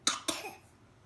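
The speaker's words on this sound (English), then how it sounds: "And coughing." Two sharp coughs in quick succession from a young child, close by, the second trailing off into a brief breathy sound.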